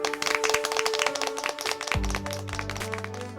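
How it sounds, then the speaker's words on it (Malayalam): An audience in a comedy scene gives steady, brisk applause of many clapping hands, which carries on under a sudden low tonal swell toward the end. "കൈയടിച്ച് അഭിനന്ദിക്കണം"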